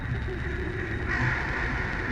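A raven caws within a binaural dramatic reading, a harsh crow-like call rising over a steady dense background, close and fairly loud, with no talk.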